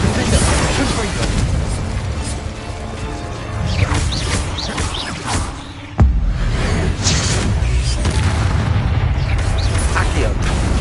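Confringo blasting spell going off in Hogwarts Legacy on PS5, heavy booming explosions layered with crashing debris and rumble, one sharp loud blast standing out midway amid ongoing combat noise.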